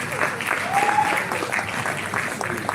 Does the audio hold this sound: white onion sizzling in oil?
no